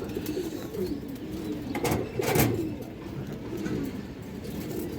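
Soft cooing from a pigeon, an old-line female kept among pigeons, comes low and murmuring with a louder burst midway over steady background noise.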